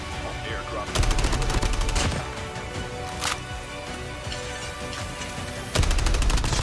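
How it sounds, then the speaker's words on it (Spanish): Bursts of Call of Duty gunfire from an AK-117 crackle close by, with rapid volleys and single shots over a steady backdrop of game music and ambient noise. "De cerca se escuchan disparos."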